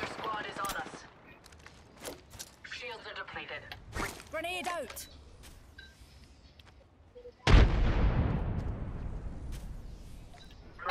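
Gunfire in the battle royale game Apex Legends: scattered shots and bursts, with a sudden loud blast near the end that decays slowly, mixed with game sounds and a voice talking over parts of it.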